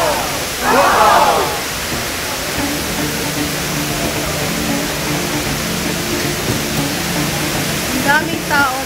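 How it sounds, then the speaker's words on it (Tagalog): Indoor waterfall inside the Dubai Mall, a steady broadband rush of falling water filling the space, with crowd murmur and a brief voice early on and near the end. "Sa loob ng Dubai Mall. Ayan yung water falls."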